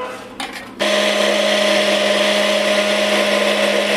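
A blender whirs on abruptly after a short quiet lead-in, mixing orange cake batter with baking powder and orange zest in a loud, steady, high-pitched motor whine that holds constant to the end.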